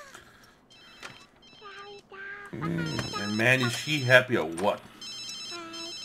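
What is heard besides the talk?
telephone ringing in The Sims 3 video game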